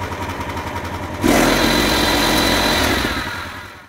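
A Huike HKS31G sawmill engine idles with a low rumble, then revs up sharply into a loud, steady roar that holds before easing off slightly at the end.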